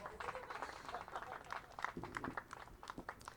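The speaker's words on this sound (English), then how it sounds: "Round of applause for them." A crowd at a freethought day gathering gives a round of applause for children who helped on stage, a dense patter of many hands clapping mixed with murmuring voices and movement.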